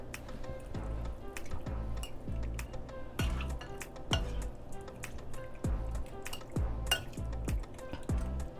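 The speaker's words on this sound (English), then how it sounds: "We are just going to mix that together so that the meat can marinate." Beef being mixed with a blended meat seasoning to marinate gives a steady run of wet clinks and taps of a utensil against a bowl, repeating in an uneven rhythm, close and moderately loud.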